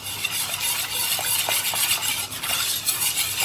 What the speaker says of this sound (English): I'm gonna whisk that to dissolve it